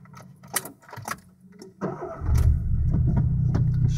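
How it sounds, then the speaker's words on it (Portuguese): A car engine, an FT400, starts up around the two-second mark and then runs steadily with a loud low rumble after some brief handling clicks and knocks. "O carro tá ligado."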